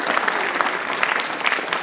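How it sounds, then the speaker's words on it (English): An audience at a writers expo applauds, dense close clapping from a crowd filling the whole moment steadily without a break. "So could we just give her one more round of applause?"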